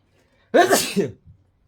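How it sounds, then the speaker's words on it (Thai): A single sharp human sneeze, close and loud, with a short gasp before it and a faint trailing breath after, in an otherwise quiet room. "โอ้ ขออภัยครับ จามเป็นหนึ่งดอก"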